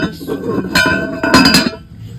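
Glass tumblers handled in a second-hand shop give off a few bright clinks and rings, clustered close together and sounding near and clear.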